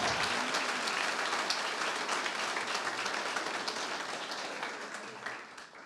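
A large church congregation applauds steadily, dense clapping that holds for several seconds and then slowly tapers off.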